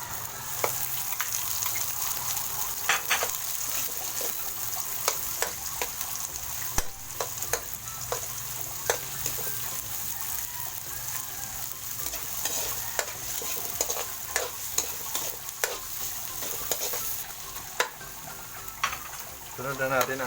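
Onions sautéing in a pan for dinuguan, a steady close sizzle punctuated by frequent sharp scrapes and clacks of a utensil stirring against the pan, with occasional faint speech in the background.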